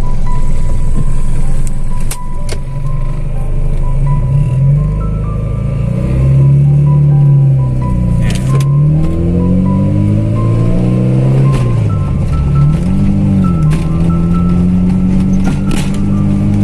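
A 1300 cc Toyota Starlet Kapsul without power steering being driven, its engine loud and close, droning steadily as it climbs through the gears with repeated rises and dips in pitch.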